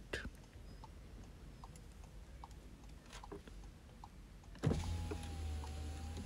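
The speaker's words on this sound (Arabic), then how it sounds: "جميع النوافذ آلية بضغطة واحدة" A Seat Ateca's one-touch power window runs inside the car after a few faint clicks and ticks. The electric motor whirs steadily for the last couple of seconds.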